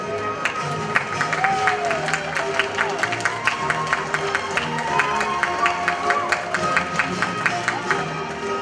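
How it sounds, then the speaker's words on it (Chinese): Audience applause at a community gala celebrating performing groups, a steady wash of many hands clapping through the whole stretch, fairly loud and even with a voice faintly heard over it. "让我们用热烈的掌声感谢他们"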